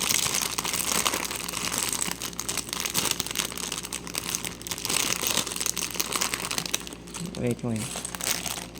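Crinkling plastic from a LEGO Speed Champions McLaren Formula 1 parts bag being torn open, a continuous close rustle and crunch with brief speech partway through.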